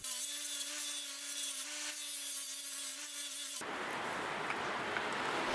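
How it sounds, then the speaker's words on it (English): A wire brush wheel strips paint from aluminum, first a steady whine with a tonal hum, then abruptly shifting to a loud, broadband grinding rasp as the bristles bite into the painted metal. "The wire brush wheel made short work of the paint."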